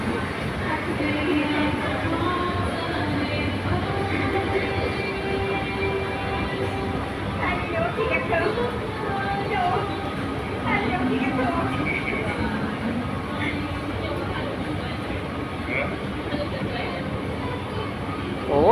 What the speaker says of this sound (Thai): รถไฟฟ้าใต้ดิน